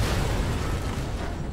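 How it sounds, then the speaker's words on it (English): Grenade blast in the video game Watch Dogs, a brief heavy low rumbling boom filling the whole moment, loud and close. "Oh, grenade, get out of there!"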